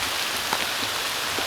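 Steady rain falls through a wet autumn woodland, a dense even hiss of drops pattering on leaves and ground with no voices.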